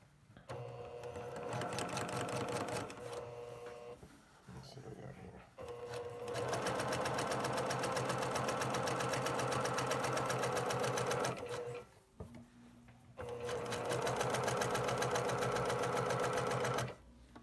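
Domestic sewing machine stitching quilt border strips: a close, steady mechanical whir in long runs, briefly pausing and restarting, with soft talk in between.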